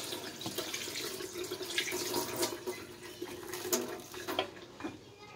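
Tap water runs steadily into a sink as hands are rinsed, a close, continuous splashing with small irregular spatters throughout.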